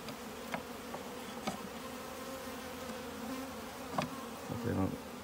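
Honeybees swarm and hum steadily around an open top bar hive during a hive inspection, a dense continuous drone with a few louder passes of individual bees close by.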